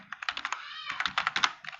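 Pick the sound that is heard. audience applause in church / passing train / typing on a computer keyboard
typing on a computer keyboard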